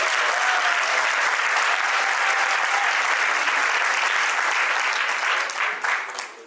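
Guests applaud a couple at a civil wedding ceremony, with sustained, dense clapping from a crowd that holds steady and then thins and fades out in the last second.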